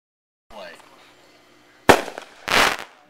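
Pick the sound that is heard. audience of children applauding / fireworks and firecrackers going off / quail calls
fireworks and firecrackers going off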